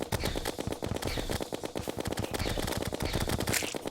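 The Minishark gun in Terraria fires in a rapid, unbroken stream of shots, dense and loud, sustained throughout without pauses.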